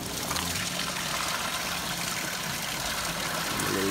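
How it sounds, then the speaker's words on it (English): Fresh water pours steadily into a garden koi pond outdoors on a snowy day, a continuous loud rushing splash that stays even throughout with no pauses and no voices. "A little bit of fresh water and top off the pond."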